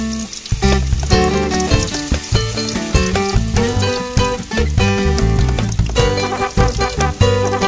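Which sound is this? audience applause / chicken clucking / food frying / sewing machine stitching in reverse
food frying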